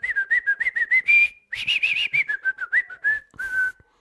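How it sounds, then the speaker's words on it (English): Someone whistles the jaunty Steamboat Willie tune, a lively run of short bright notes with brief pauses and a few sustained tones, close and clear with no talking. "I just whistle that."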